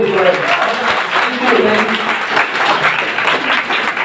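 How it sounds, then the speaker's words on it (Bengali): An audience at a business presentation bursts into applause, and the clapping stays loud and dense throughout. Voices can be heard through and under the clapping. "নিজের জন্য একবার হাততালি দিতে চাই।"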